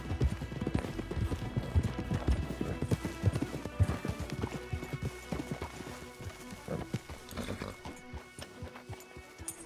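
Horse hooves clop in a quick, uneven rhythm in the video game Red Dead Redemption 2, fairly close, with a horse snorting and faint voices and ambience underneath, fading slightly toward the end.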